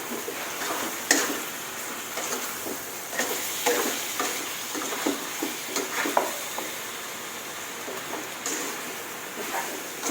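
Salted chicken is stir-fried in a pan with seasoning and a little dark soy sauce, a fairly quiet, steady sizzle broken by soft irregular spatula scrapes and clacks.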